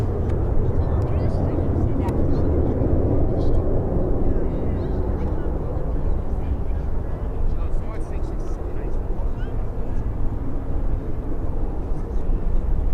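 An Air France airliner at Birmingham airport, its jet engine roar a steady, loud broadband rumble lasting throughout, with faint voices under it.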